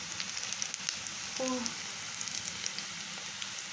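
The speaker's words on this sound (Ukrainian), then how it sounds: "тепер уже в мене у процесі обжорювання от такі виходять котлетки" Cutlets frying in hot sunflower oil in a skillet, a faint, steady crackle and sizzle with small pops scattered throughout and a brief tonal clink near the middle.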